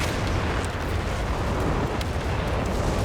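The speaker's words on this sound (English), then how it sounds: "Comes incendiary bombing." Incendiary bombing in Company of Heroes 3 fills the scene with dense, continuous rumbling blasts and crackling fire, loud and close, the booming roar overlapping without pause.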